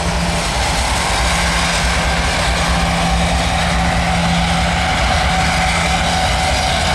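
A CSX freight train of ethanol loads, led by an Evolution series locomotive, rolls past on the Shelby main line, a loud steady roar of engine and wheels filling the scene without pause.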